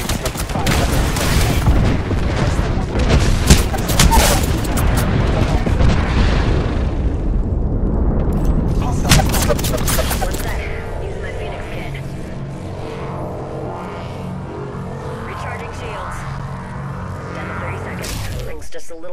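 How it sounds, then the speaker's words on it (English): An airstrike bombardment in Apex Legends, a dense continuous barrage of loud explosions and rapid blasts for about ten seconds, then fading into a lower rumbling tail with distant crackle. "Airstrike."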